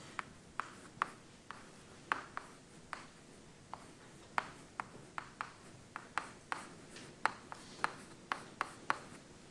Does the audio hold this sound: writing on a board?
yes